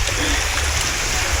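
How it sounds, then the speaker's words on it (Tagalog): Strong sea waves at Fortune Island make a loud, continuous rushing and churning wash, close by with no break, and no clear voices on top. "Ang lakas ng mga alon."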